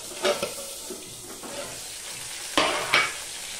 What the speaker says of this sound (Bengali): এবার একে একে আমি মাছগুলো ভেজে নিচ্ছি